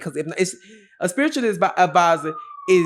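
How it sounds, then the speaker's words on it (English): A siren wails faintly in a downtown street, its gliding tone partly buried under someone talking close by. "excuse the sirens"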